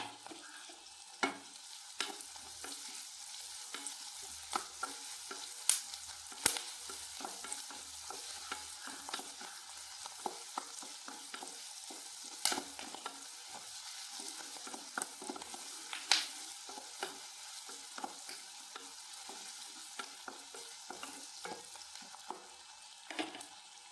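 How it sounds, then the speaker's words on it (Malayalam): Onion sautéing with salt in a pan for a beetroot stir-fry, a soft continuous sizzle broken by frequent scraping stirs and spoon clinks, fairly quiet, without talk. "ഈ ഉള്ളി ഒന്ന് വാടി കിട്ടിയും ലേശം ഉപ്പിട്ട് കൊടുക്കാം."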